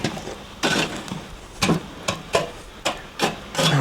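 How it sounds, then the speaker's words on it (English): Hot coals being scraped across a cooking fire, a series of short, close rough scrapes and rasps spaced irregularly, about seven strokes with quiet gaps between them. "We'll just scrape a few of these coals over here."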